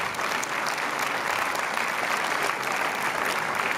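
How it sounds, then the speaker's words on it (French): Steady, dense applause from a theatre audience at the Paris premiere of the film "Amitiés sincères" fills the whole stretch, loud and continuous with no pauses. "Les applaudissements"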